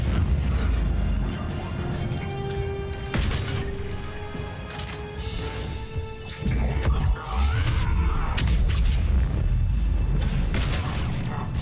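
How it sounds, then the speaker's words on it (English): A biotic explosion in Mass Effect 3 bursts with deep booms and crashing smashes amid ongoing game combat, several loud impacts spread over several seconds. "Biotic explosion over here."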